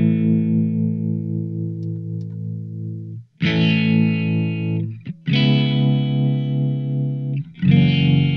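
Electric guitar through a Blackstar ID:Core V3 amplifier with its tremolo effect, sustained distorted chords that pulse in volume, played in three bursts separated by short silences.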